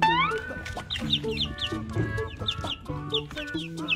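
Several chickens cluck and squawk close by in rapid, overlapping bursts of short, sharp calls.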